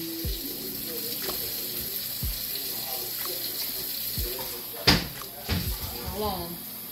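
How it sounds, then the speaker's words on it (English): Water poured into a hot pan of chicken, potatoes and vegetables, giving a sudden loud hiss and bubbling burst over steady frying sizzle, with a second splash soon after while people talk. "So we're gonna add a little water."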